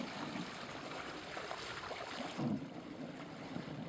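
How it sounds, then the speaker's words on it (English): Water churns and rushes steadily in a strong whirlpool, a broad, constant wash of turbulent flow with a brief deeper surge midway and no talking. "this is a real whirlpool right here"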